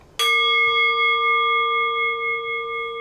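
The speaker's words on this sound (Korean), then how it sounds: "종소리를 끝까지 사라질 때까지 듣기 바랍니다" A meditation bell is struck once with a sharp attack, then rings out with a pure, sustained tone that slowly fades over several seconds in a quiet room.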